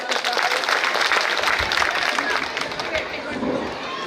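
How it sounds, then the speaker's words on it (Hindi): A crowd applauding at an outdoor political rally, with dense clapping close and continuous under a babble of voices. "जरा तालियां और बजा।"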